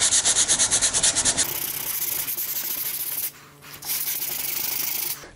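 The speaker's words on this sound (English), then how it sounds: "I'm sanding across it to bridge it" Sanding block rubbed across a long, skinny wood repair before painting, first in quick rhythmic back-and-forth strokes, then a steadier continuous scrubbing with a brief pause near the end; close and fairly loud, no talk.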